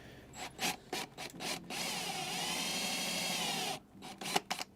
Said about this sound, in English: We're gonna drill into each one of these holes.